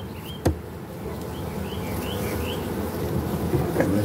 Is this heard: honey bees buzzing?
yes